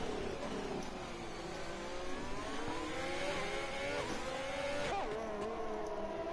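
Formula 1 race cars roar past on a street circuit in a racing video game, several high-revving engines sweeping by in quick succession with rising and falling pitch, loud and continuous, no voices.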